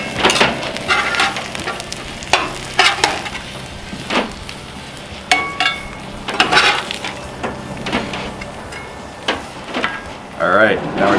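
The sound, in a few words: bacon and eggs sizzling on a Cuisinart 360 griddle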